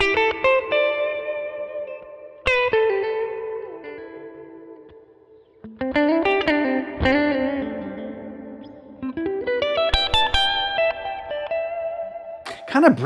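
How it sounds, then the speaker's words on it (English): Electric guitar run through reverb on a Line 6 Helix with a tape simulator, clean picked chords and notes ringing out with a lush, blooming tail between attacks, played alone without talk. "Let's add a little bit of reverb in there."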